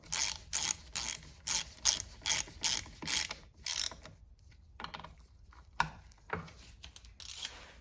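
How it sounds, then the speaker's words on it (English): A hand ratchet tightens bolts on a Getrag 260 E30 transmission case, with about a dozen quick rhythmic clicking strokes close by that slow into scattered clicks and light handling noise. "Okay, tighten the bolts down"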